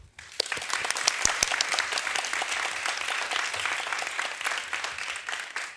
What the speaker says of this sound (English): let's give a hand of applause for Audrey